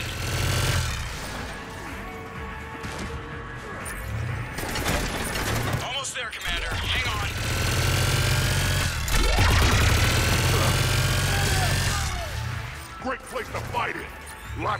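Gunfire from a firefight in the video game Mass Effect 3: bursts of shots and impacts mixed with music and effects, running under voices talking for most of the clip and peaking in the middle.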